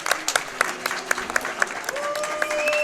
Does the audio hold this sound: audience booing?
yes